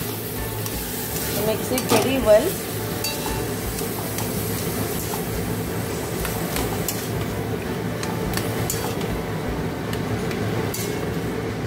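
Arum branches with mustard and coconut paste are stirred in a hot pan, giving a steady soft sizzle with scraping strokes, one louder clatter near the start, and faint talk in the background.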